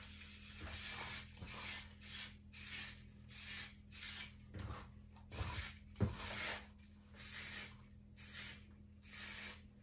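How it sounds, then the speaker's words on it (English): Repeated short bursts of hairspray from an aerosol can, misted onto a man's blonde hair, each hiss roughly a second long with brief gaps, close and fairly loud with faint handling rustle beneath. "I'm just going to pop a little bit of hairspray on"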